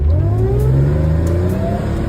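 An Audi S6 engine with automatic transmission revs loud and steady on a freeway, with rising harmonic tones sweeping upward as it accelerates, no talking over it.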